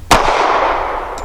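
A single sharp shot from a Rock Island 3.1-inch double-stack .45 pistol cracks close by, then a long echoing decay rolls away across an outdoor range.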